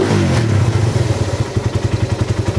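A Raider carb 180cc motorcycle engine, freshly rebuilt and cold, starts up and settles into a steady, close, loud idle with a rapid, even putter and slight mechanical clatter.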